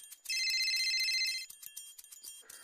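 A telephone rings in a short electronic trill lasting about a second, loud and close, followed by faint clicks and small handling sounds in an otherwise quiet room.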